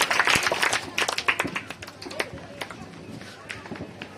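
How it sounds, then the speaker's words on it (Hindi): An audience at an Independence Day program applauds to welcome the convener. Sharp, scattered claps start busy and loud, then thin out and fade over a few seconds, with voices murmuring underneath. "जोरदार तालियों से स्वागत करें कन्वीनर कलीम साहब"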